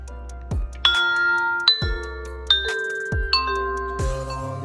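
Unifi G4 Doorbell Pro chime ringing indoors: a series of about five clear bell-like dings, each struck note ringing out and overlapping the next in a descending pattern, with no talk.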